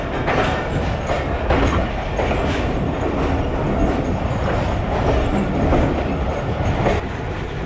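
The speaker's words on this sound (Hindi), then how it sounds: "GEU40 ने एक्सेलरेट करना शुरू कर दिया।" A GEU40 diesel locomotive hauls a Pakistani passenger express as it accelerates, with a steady loud rumble of engine and rolling stock and rhythmic clickety-clack of wheels on rail joints throughout, recorded from inside the train.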